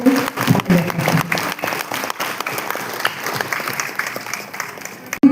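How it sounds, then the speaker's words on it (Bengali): A crowd at a community gathering bursts into loud, sustained applause honoring a local organization, dense clapping holding steady for several seconds before cutting off abruptly. "নৈহাটি দিশারির জন্য একটা জোরে হাততালি আমি চাই আপনাদের কাছ থেকে"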